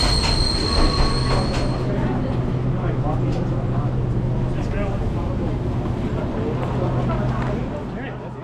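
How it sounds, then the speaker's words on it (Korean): Enoden electric train rolling along rails near Enoshima, Japan: a loud, steady rumble with sustained high wheel squeal and faint clatter, with voices heard over it, fading slightly at the end. "다시 에노덴 전철을 타고 에노시마역으로 향했습니다"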